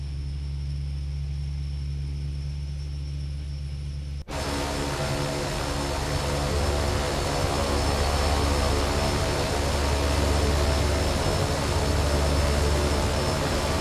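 The left engine of a Carenado King Air twin turboprop starts up in X-Plane, a steady idle hum breaking at once into a loud, continuous turbine roar that holds to the end.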